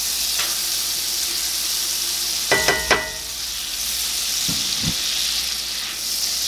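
A large amount of butter melts and sizzles in a pot for a southern beef pot pie, a steady close frying hiss broken by a few clanks of a utensil.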